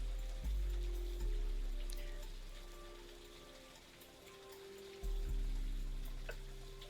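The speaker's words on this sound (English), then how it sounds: "The rain is in the game." Rain falls steadily in a video game, a soft continuous patter with faint ticking drops and a couple of low thumps.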